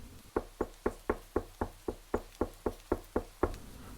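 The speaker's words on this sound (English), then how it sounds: "They knock on the door." About a dozen firm, evenly spaced knocks on a house's front door, close and distinct with short pauses, alone with no talk.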